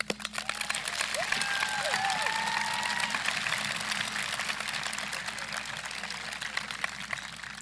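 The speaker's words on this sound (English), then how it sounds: "request a big round of applause for the amazing teachers here at Beebe Schools" A graduation audience at a high school ceremony applauds the teachers with steady, dense clapping across the hall, joined early on by a few whistles and cheers before settling into an even, continuous roar of hands.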